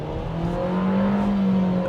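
A Nissan Versa S with a 1.6-liter four-cylinder pulling away, its engine drone rising steadily in pitch from inside the cabin, loud and continuous with no talk.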